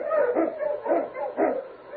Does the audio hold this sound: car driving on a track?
no